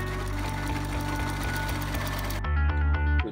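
A sewing machine stitches a denim tote bag made from jeans, a close, rhythmic mechanical thumping with a steady repeating beat that grows heavier near the end.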